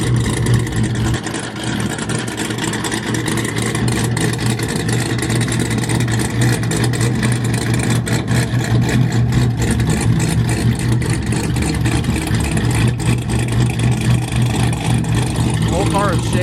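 A turbocharged import car engine revs hard at a crowded car meet, a loud, rough, sustained roar close by with constant rumble, while people chatter underneath.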